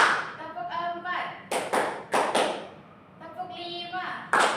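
Hand claps in a counted rhythm exercise, a few sharp claps in a short burst between voices chanting the count, with talk before and after.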